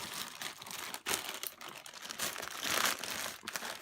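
Crinkly plastic packaging around a cheap squishy toy is cut and torn open, with close, continuous crumpling and crackling and a few sharper rips, no talk.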